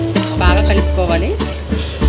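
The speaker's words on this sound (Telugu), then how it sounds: "బాగా కలుపుకోవాలి." Egg fried rice is stirred in a pan with a little coriander added, giving steady close sizzling with scraping strokes over a faint tonal background.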